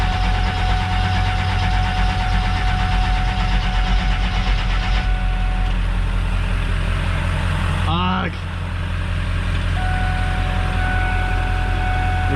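A car engine with a high-torque gear-reduction starter cranks at length while connected by jumper cables, a steady loud grinding drone running for several seconds, dipping briefly near the end before continuing.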